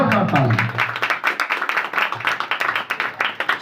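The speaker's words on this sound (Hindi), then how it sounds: "जोरदार ताली।" Congregation at a church healing meeting breaking into loud, rapid clapping that continues steadily, with a voice over the applause at the start.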